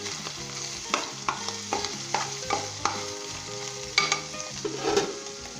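A spoon stirring a chicken macaroni mixture in a frying pan, irregular scraping knocks about once a second over a steady close sizzle, with no talking and a soft musical tone underneath.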